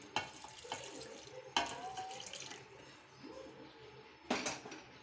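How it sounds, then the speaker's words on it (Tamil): Water poured into a cooking pot holding drumstick, tomato, onion and tamarind extract for an anchovy aviyal in a home kitchen, with a few splashy bursts and a faint trickle between them. "தேவையான அளவு தண்ணி ஊற்றிக்கலாம்."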